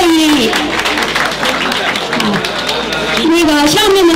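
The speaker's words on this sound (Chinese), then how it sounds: "大家鼓掌表示谢意。" Audience applause at a Double Ninth Festival senior appreciation gathering of a Burmese-Chinese association in Southern California: dense, steady clapping fills the hall throughout, with a voice speaking over it near the end.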